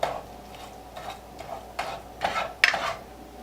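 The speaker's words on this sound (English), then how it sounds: "we are going to stir 1 teaspoon of baking soda into the syrup mixture" Teaspoon of baking soda stirred into a syrup mixture for an eggless wartime cake, heard as a few soft, irregular scraping and clinking stirs in a bowl, close and fairly quiet, with no talking.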